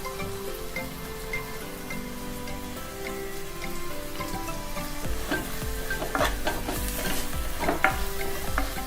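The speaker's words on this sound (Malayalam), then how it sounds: "നമുക്കിതിലേക്ക് ഉള്ളി ഒന്ന് വാടി കിട്ടാൻ വേണ്ടി കുറച്ച് ഉപ്പ് ചേർത്ത് കൊടുക്കാം." Onions frying with salt in a pan for a chicken dish, a continuous close sizzle broken by clattering stirs and scrapes of a utensil that grow busier and louder toward the end, with no talking.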